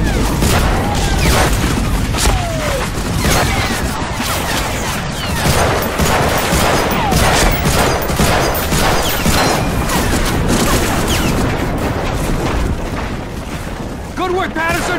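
Gunfire and booming blasts from enemy bunkers in the video game Medal of Honor Frontline, a dense, continuous barrage of shots and impacts running loud throughout, with voices shouting over the battle.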